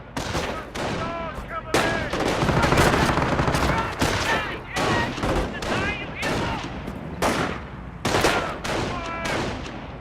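Gunfire erupts in the Company of Heroes tutorial, bursts of rifle and machine gun fire crackling repeatedly in loud clusters for several seconds while a voice speaks over it.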